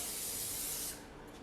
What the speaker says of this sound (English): So I want you to spray your muffin tin really well or butter them